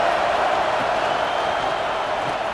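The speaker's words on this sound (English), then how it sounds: "This crowd bringing the energy and noise early." Distant, steady crowd roar from a large college football stadium, a broad continuous wash of noise without distinct voices.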